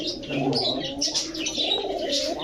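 Male pigeons coo in low, rolling murmurs with scattered chirps over a steady bird-filled background, close by and continuous.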